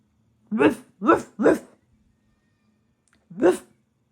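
A child imitates a dog's bark with the voice, giving three quick woof-like yelps in a row, then a pause and one more, close and clear in a quiet room.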